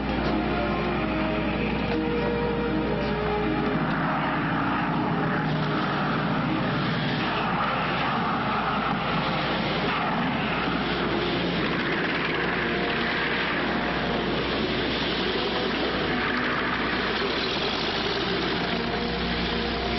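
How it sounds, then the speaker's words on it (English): An airplane engine drones steadily and continuously, a dense, unbroken hum with no pauses. "The plane."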